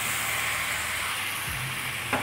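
An onion and masala-powder mixture sautéing in a pan for curry puff filling gives a continuous, close sizzling hiss with faint stirring and one brief clink near the end.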